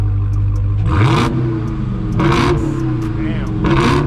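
Exhaust of an Audi RS5, Dodge Hellcat or Scat Pack revving in short bursts, loud and close, with several rising roars separated by idling rumble.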